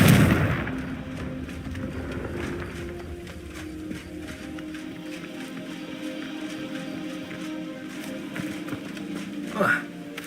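A fiery Confringo blasting spell is cast in a video game, a loud burst right at the start that fades into a steady game background, with a smaller sharp pop near the end.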